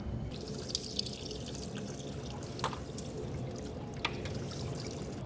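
Water runs steadily to rinse dust off the fuel injectors of an Allis Chalmers Two Ten tractor, a continuous close splashing wash broken by a few brief drips and clinks.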